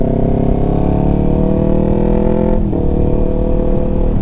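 Motorcycle engine fitted with TST V2 Stacks and a 2WDW tune, a loud, steady, close engine drone with a brief throttle dip midway before it holds again.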